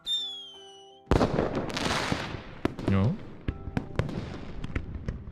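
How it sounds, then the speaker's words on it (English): Fireworks bursting at the end of a music festival in a video game: a shrieking whistle fades before a loud crackling explosion, followed by scattered pops and bangs, with a brief spoken word mixed in. "The dark sky is pierced by a shrieking tail as the fireworks explode."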